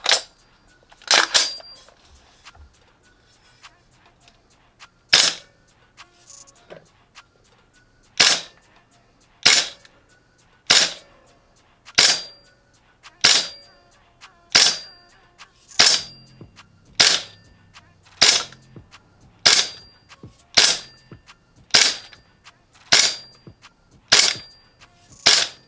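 A G&G MGCR 556 gas blowback airsoft rifle running on green gas with .20 gram BBs fires sharp, loud single shots, about fourteen evenly spaced cracks each followed by a short clattering echo, at a slow steady pace.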